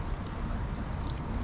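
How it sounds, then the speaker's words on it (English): Small waterfall at Sensoji Temple in Tokyo, a steady broadband rush and splash of falling water, close and continuous with no voices over it. "A nice little waterfall."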